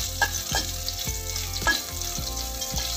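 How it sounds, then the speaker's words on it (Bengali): Sliced bitter gourd sizzles steadily in hot oil in a pan, with a constant crackling hiss broken by a few soft stirring knocks spaced roughly half a second apart, close and moderately loud. "আর একটু লাল করে ভাজবো"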